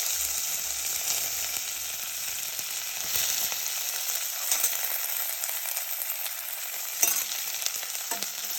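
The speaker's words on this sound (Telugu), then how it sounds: "ఉల్లిపాయలు వేసి ఉల్లిపాయలు బ్రౌన్గా వేగాక" Onions fry in a pan with a steady, moderately quiet sizzling hiss that runs throughout, broken by a few faint clicks near the end.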